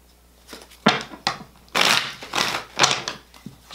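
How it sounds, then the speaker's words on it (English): Cards are riffled and bridged in several bursts, each a quick rattling flutter followed by pauses and lighter shuffling sounds, close and fairly loud, with no voices. "one more good shuffle"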